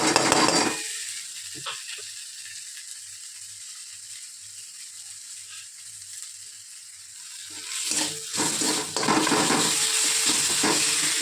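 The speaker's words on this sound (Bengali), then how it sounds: "ভাজা পেঁয়াজটা ভাজা হয়ে গেছে এবার হচ্ছে রসুন বাটাটা দিয়ে দেবো রসুন আর কাঁচা লঙ্কা" Onions sizzle loudly in a pan as garlic paste and green chillies go in; the frying hiss drops almost silent for several seconds, then returns strongly with stirring scrapes near the end.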